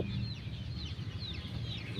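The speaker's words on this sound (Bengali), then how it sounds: "ঘর থেকে সব মুরগিগুলো ছাড়া হবে এটা হচ্ছে দেশি মুরগি আর কি" Desi chickens cluck in a continuous low murmur near a coop, with higher chirps from birds scattered over the top.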